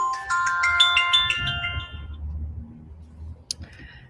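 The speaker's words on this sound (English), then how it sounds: "My phone's ringing." A mobile phone rings with a bright melodic ringtone for about two seconds, close and clear, then stops, leaving a low rumbling background and a brief click.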